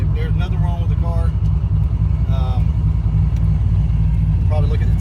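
A car engine bogs after a short shift, giving a loud, steady low rumble with a strained, heavy tone while people talk over it.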